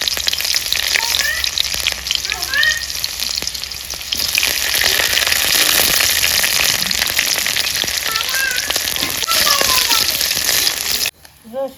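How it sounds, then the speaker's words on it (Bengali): Garlic and green chillies fry in a little mustard oil in a wok with a loud, dense crackling sizzle that runs steadily and then cuts off abruptly near the end, with a voice heard briefly. "কড়াইতে সরিষা তেল দিয়া রসুন কাঁচা লঙ্কাটা একসঙ্গে দিয়ে দিই।"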